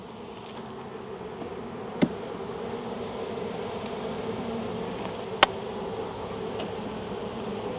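Honey bees hum steadily in a dense, continuous buzz during a winter hive inspection at a farm yard, with two sharp clicks of handling standing out above the drone.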